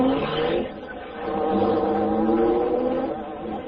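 The Black Beauty, the Green Hornet's car, drives off with a steady engine roar that swells and holds for a few seconds, loud and close, with no voices over it.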